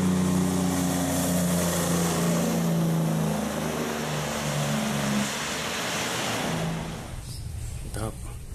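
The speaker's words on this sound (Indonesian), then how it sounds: "Wow, ini ada truk tangki teman-teman." A toy fuel tanker truck makes a loud, buzzy engine-like drone that shifts in pitch, weakens partway through, then cuts off into a few light clattering knocks.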